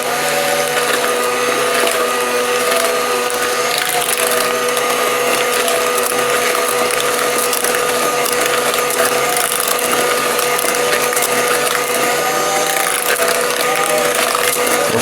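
An Aldi Ambiano cordless hand mixer running on speed 1 while combining zucchini, giving a loud, steady whirring, rattling motor drone with gear noise that never stops.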